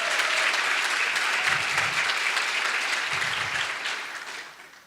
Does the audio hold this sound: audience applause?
yes